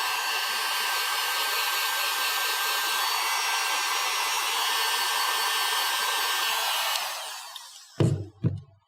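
A heat gun blows hot air onto heat shrink tubing, giving a loud, steady whooshing roar for about seven seconds. It then winds down and cuts off, followed by a few close handling knocks.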